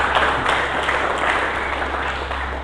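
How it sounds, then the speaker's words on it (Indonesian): A church congregation applauds for Jesus in a dense, even wash of clapping that stays loud and steady throughout, with no voices over it. "Mari kita berikan tepuk tangan bagi Yesus."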